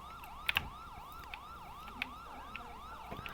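A wailing siren sweeps up and down in a steady repeating cycle, fairly faint, with a few sharp clicks and taps scattered over it.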